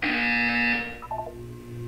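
A test-chamber buzzer in Portal 2 sounds once, a loud flat electronic tone held for about three-quarters of a second before cutting off, followed by faint synthetic chirps and a low ambient hum.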